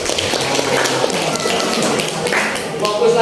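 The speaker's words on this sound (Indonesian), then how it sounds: "Ya, tepuk tangan dulu" Several pairs of hands clap in a lively group session with a child, steady rapid applause overlapping a woman's speech and other voices throughout.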